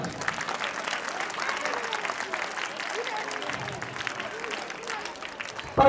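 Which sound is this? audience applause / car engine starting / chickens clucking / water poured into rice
audience applause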